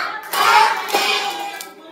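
Children's clap chant in a classroom: a short burst of hand clapping mixed with young voices, fairly close and loud, lasting about a second before fading under continued chatter.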